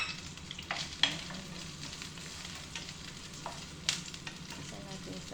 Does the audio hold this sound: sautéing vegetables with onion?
yes